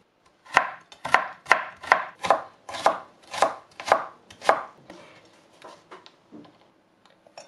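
Knife chopping carrots on a board for vegetarian spring rolls: about nine crisp, evenly spaced chops, close and distinct, then a few softer, slower cuts trailing off, with no talk.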